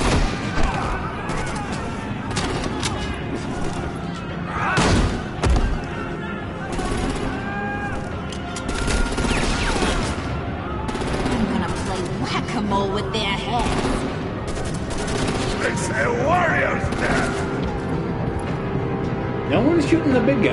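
Gunfire in the Batman: The Enemy Within video game, with a dense stretch of shots and booming impacts mixed into a busy soundscape, often under voices talking.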